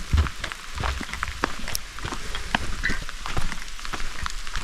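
Rain falls steadily across a desert hiking trail near Las Vegas, a dense hiss broken by scattered, close individual drops ticking on the ground, with no voices.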